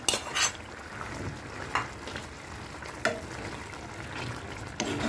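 Begmati chicken curry with green chillies and herbs is stirred in a sizzling pan, with a spoon clanking against the metal every second or so over a continuous fry.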